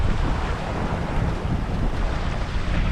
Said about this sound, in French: Il y a le vent du sud-est qui s'est levé, enfin plus sud.